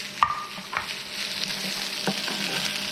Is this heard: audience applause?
no